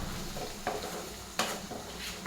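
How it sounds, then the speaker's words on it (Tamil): Cashews, cinnamon and cloves being sautéed in a pan, giving a steady close sizzle of frying with a few sharp stirring scrapes and clinks of a utensil against the metal. "இப்போ நம்ம எல்லாத்தையும் வதக்கி விட்டுடலாம்."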